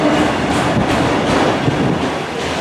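Norfolk Southern freight train of autoracks, with ex-Conrail cars, rolling past at Spartanburg, South Carolina: a steady, close, loud rumble and rattle of wheels and cars throughout.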